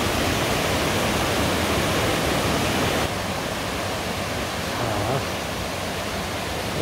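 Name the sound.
Biryong waterfall on Seoraksan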